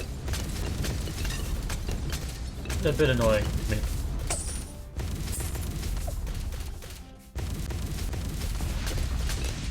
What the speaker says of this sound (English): the constant explosion of the purple sentries